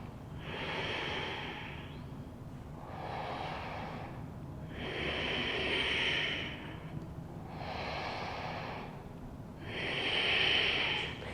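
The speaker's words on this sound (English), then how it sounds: "3 deep rounds of inhales here" Slow, deep yoga breaths during a standing warrior sequence, five or six long airy inhale-exhale cycles evenly spaced and close to the microphone, with no speech.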